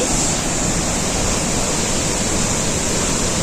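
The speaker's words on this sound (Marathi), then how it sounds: "नदी बघा किती सुंदरचा हा वॉटरफॉल आहे" Rushing water roars steadily and loudly, a dense unbroken wash of noise from Davis Falls waterfall in Pokhara, Nepal, with no voices.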